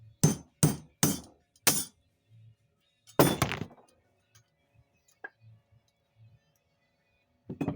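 Hammer strikes on the driver of a Hitachi framing nail gun under repair: four sharp, loud blows in quick succession, a short pause, then one heavier burst of impacts, followed by faint taps and a final clatter of knocks.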